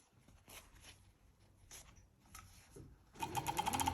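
Sewing machine stitching elastic onto fabric for loose-fitting trousers, faint scattered mechanical clicks and short whirs at first, then a fast, louder run of stitching near the end.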